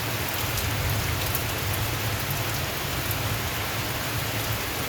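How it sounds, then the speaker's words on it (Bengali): Steady morning rain falling outdoors, a dense even hiss of drops on surfaces that holds at constant level throughout, with no voices. "সকাল থেকেই বৃষ্টি হচ্ছে।"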